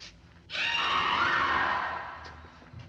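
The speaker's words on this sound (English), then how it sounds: "I have a feeling I've heard that scream before." A loud, sustained scream from a film rises suddenly and holds for about a second and a half before fading, with a little background noise around it.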